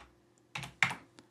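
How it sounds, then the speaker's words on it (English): Command typed on a computer keyboard while modifying the BIOS of a Dell OptiPlex desktop: a few quiet, close key clicks, three distinct presses spaced out over a low hum. "So what I'm going to do is type"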